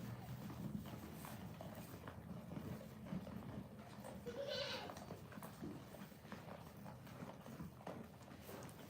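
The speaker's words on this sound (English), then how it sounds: "anybody with goats kind of understands the enjoyment of just sitting and watching them eat" Goats on a farm feed close by with soft chewing and rustling, an occasional bleat and hoof clatter, while people murmur faintly in the background.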